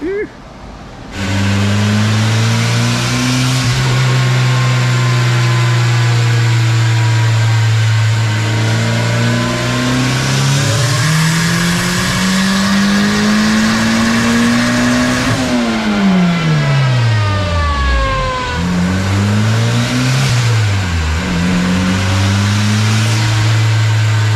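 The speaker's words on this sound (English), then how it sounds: "So the Vtec is definitely working." A turbocharged Honda K24 engine revs hard under load on a dyno. Its loud, steady drone climbs and falls in pitch, with a distinct sharp step up when VTEC engages, running continuously for the length of the clip.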